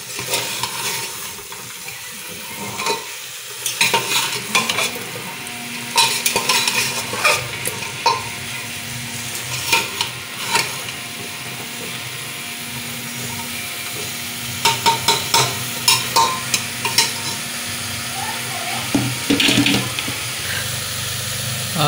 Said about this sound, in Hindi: अब इसको अच्छी तरह से चला लेंगे, ऊपर नीचे कर लेंगे, ताकि मसाला इसमें अच्छी तरह से मिक्स हो जाए आलू और चना के साथ।